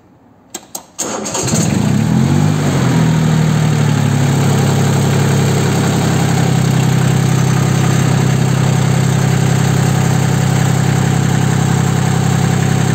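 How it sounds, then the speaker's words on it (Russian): An Iseki TU1700 tractor engine cranks with a few brief clicks, then catches and settles into a loud, steady diesel idle that runs on close by without a break. "Сейчас запустим мотор, послушаем, как работает"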